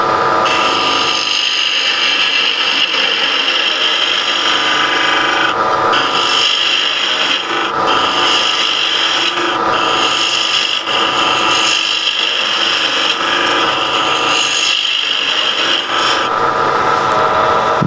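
A skew chisel cuts a spinning wooden box on a lathe, a continuous loud rasping scrape that swells and eases in repeated passes, with brief pauses between strokes and no talking.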